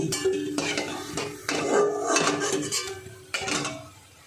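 Potato balls sizzle in hot oil while a utensil clinks and stirs against the pan, scraping and tapping in irregular bursts over a steady frying hiss.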